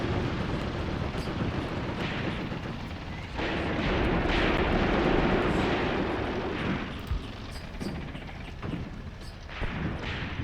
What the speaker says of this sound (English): Oh, that artillery is really close